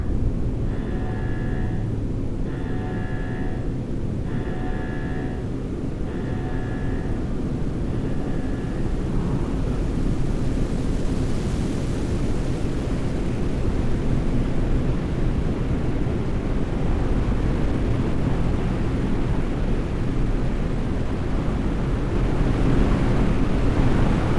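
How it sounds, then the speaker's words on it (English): Rocket booster liftoff in Delivery Us The Moon: a loud, continuous broadband roar building and sustaining for many seconds, preceded by a few repeated electronic beeps. "Rocket boosters ignition start. Engines ready in 5, 4, 3, 2, start 1. We have liftoff."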